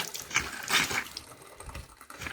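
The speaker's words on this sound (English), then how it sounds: "I'm gonna turn it on and you hear the water running." Water gushes from a tap upstairs while an under-sink valve washer is being replaced, a continuous splashing rush that swells and eases slightly, with nothing else audible.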